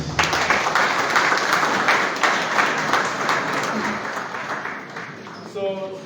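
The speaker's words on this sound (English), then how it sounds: "Another big round of applause, please." An audience at a Liberian government civil service launch event gives a big round of applause, dense clapping loudest at the start and gradually thinning out over six seconds before a voice speaks briefly at the end.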